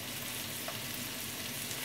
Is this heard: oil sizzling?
yes